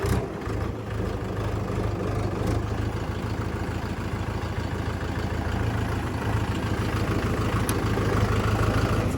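A tractor engine runs steadily close by, a continuous low idling rumble with a heavy, even tone that holds for the whole stretch, with no voices over it.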